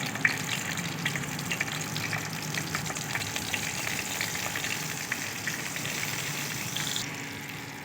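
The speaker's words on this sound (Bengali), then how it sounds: "গরম তেলে আমরা ফার্স্ট এভাবে এখানে কিছু কাঁচা লঙ্কা" Green chillies going into hot oil with dried red chillies, whole cumin, and chopped ginger and garlic, giving a dense, steady, close sizzle and spatter that eases slightly at the very end.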